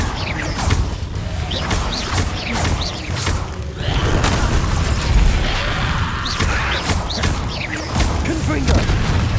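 Fiery Confringo explosion spells from the Hogwarts Legacy video game burst repeatedly amid dense game combat noise, with several sharp booms and whooshes in a busy, loud mix.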